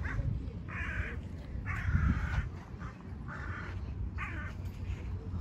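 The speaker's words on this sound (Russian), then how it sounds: "Вороны." Crows caw in a series of short, repeated calls at a city beach on the Dnieper on a hot summer day, set against a steady background of beach ambience.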